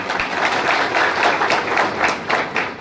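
An audience at a BJP political rally in Hanumangarh bursts into loud, dense applause, many hands clapping together in a continuous close roar.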